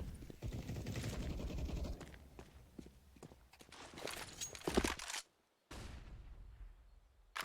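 Rapid gunfire bursts ring out during a competitive Counter-Strike match on the Inferno map, mixed with footsteps and game noise. A brief dropout near the end cuts the sound.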